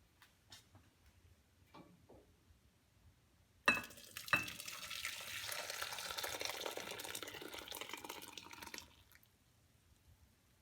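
Very hot liquid dessert being poured into a container, heard as a steady close hiss and gurgling stream lasting several seconds after a couple of sharp clinks, then stopping into quiet.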